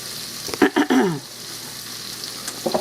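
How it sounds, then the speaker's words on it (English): Vegetables sauté in an open pressure cooker, a soft steady sizzle under a few brief clinks and scraping stirs close by, with no voices. "we're going to let these saute just a few minutes"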